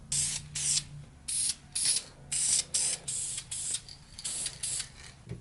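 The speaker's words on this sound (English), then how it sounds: "And then I spray it all silver." Repeated short bursts of hissing silver aerosol spray paint on a replica pistol prop, about a dozen quick sprays in an uneven rhythm, close by and with no speech.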